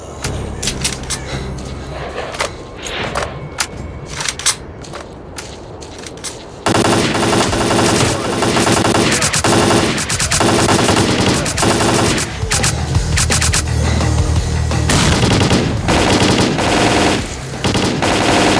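Dense automatic gunfire and overlapping shots from a firefight in the video game S.T.A.L.K.E.R. Clear Sky, loud and continuous, with a brief stretch of scattered shots before sustained heavy fire.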